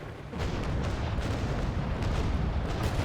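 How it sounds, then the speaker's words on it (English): Ship cannons fire in the naval combat game Naval Action, a Trincomalee frigate battling another ship, with a dense, rumbling series of booming shots rolling continuously over a loud, steady roar. "raise the cannons and fire"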